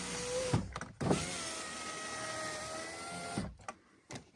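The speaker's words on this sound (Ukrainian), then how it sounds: "Стеклопідіймач працює." The electric power window motor of a Chevrolet Lacetti runs after a repair. A steady whirring hum lasts about three seconds between clicks and thumps from the switch and the glass at each end of travel.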